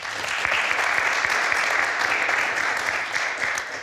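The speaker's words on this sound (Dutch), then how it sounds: "Geef ze maar een applaus." A television studio audience applauds a guest's arrival with sustained, even clapping from many hands that swells and then tapers off slightly at the end.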